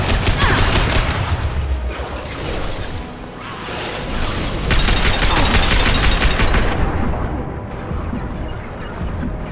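Sustained rapid gunfire in Mass Effect 2 on Insanity difficulty, loud dense bursts and booms continuing throughout with brief lulls, dominating the mix.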